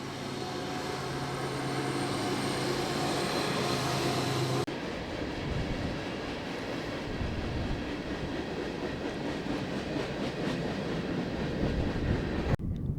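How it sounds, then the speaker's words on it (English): A train rumbles past close by, its loud, steady clatter and roar filling the whole stretch, dipping a little partway through but continuing throughout with no talk. "There's the train."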